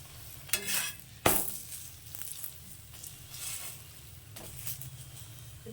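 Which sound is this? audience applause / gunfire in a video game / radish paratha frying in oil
radish paratha frying in oil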